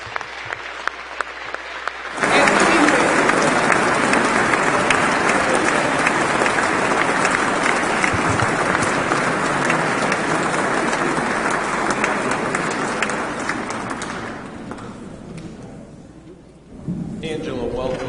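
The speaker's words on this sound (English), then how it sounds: "And please give a nice round of applause" A full round of applause in a state House of Representatives chamber, starting abruptly after quiet talk and holding as a loud, dense, even roar of clapping for around fourteen seconds before fading back to a speaking voice.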